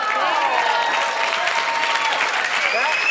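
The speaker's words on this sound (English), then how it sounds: "Yes, you're clapping" Audience applause at a college health talk, a steady dense wash of clapping filling the whole moment, with voices mixed in underneath.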